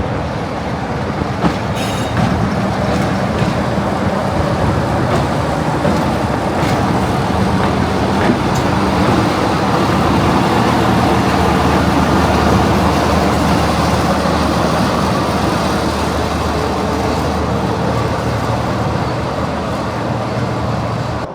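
A train rolls slowly into a station and draws up to the signal, a loud, steady rumble of wheels and engine with faint rail squeals, constant from start to finish.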